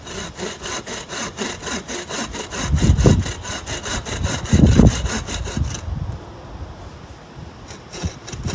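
A hand saw rasps steadily through wood in quick, regular back-and-forth strokes, loud and close, with two heavier bursts partway through.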